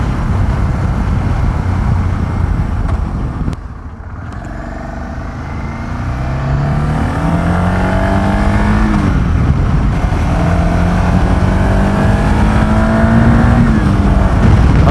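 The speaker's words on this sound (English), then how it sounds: "Just a hint of wind noise." Steady wind rush inside a Schuberth E2 flip-up helmet on a motorcycle cruising at about 70 mph, with engine drone and rising and falling gear tones underneath, loud and continuous with a brief dip partway.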